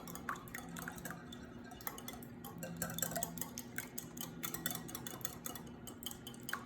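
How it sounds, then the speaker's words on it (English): A whisk clatters quickly against a bowl while egg yolk is beaten into wet chocolate cake batter, producing light, irregular ticking taps that are close and fairly quiet, with no voice. "I'm just gonna get my whisk on, break this egg yolk up, get them all incorporated"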